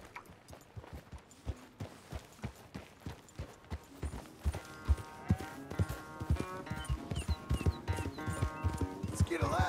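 Horse hooves clip-clop at a walking pace in Red Dead Redemption 2, each step sharp and close, gradually picking up into a steady rhythm, with someone talking over them and game music rising.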